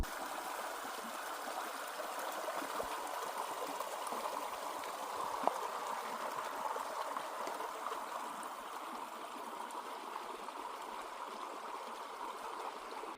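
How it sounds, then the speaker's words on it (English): Steady running water babbles and trickles without pause, a continuous wash of flowing stream sound that stays even from start to finish, recorded on a phone during a Continental Divide Trail thru-hike. "You guys are just hearing more water in the phone"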